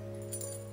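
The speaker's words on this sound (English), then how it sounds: "And my keys, my house keys," House keys and car keys jangle in a brief, faint clink near the middle, set over a steady low electrical hum.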